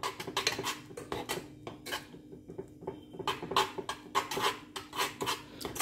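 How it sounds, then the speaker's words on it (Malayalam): Spoon stirring pepper and nutmeg powder into chicken in a pan, a steady run of scraping, clinking strokes against metal with brief pauses, close and fairly quiet, no talking. "നന്നായിട്ട് മിക്സ് ചെയ്തെടുക്കുക"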